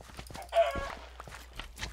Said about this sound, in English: come here, chickens. There's so many chickens.